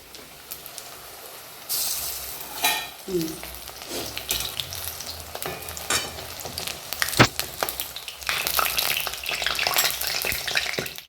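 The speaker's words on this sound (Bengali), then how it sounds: "কড়াই বসিয়ে দিয়েছিলাম, আর তেল গরমও হয়ে গেছিলো। আমি এখানে কড়াইতে দিয়েও দিয়েছি।" Chicken pakora frying in hot oil in a kadai, a continuous crackling sizzle with bursts of bubbling and occasional clinks of stirring, swelling louder toward the end.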